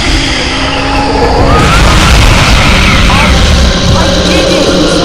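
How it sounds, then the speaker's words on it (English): A loud booming explosion in the Harry Potter and the Prisoner of Azkaban video game, dense rumbling blast filling the whole clip with a sustained roar and scattered crackles, voices speaking underneath. "Expected explosion!"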